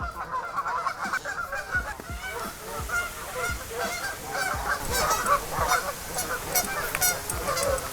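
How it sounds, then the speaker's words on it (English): A flock of geese honk continuously in overlapping, agitated calls at moderate distance, some closer and louder than others, with no talking. "the geese were going crazy"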